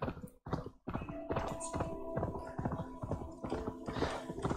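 Horse hooves clip-clop in a steady, close rhythm in Assassin's Creed Valhalla, with faint game music underneath.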